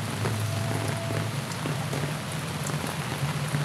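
Steady rain on a cold, wet morning, falling on surfaces with a continuous close hiss and scattered distinct drops, a faint low hum beneath and no voices.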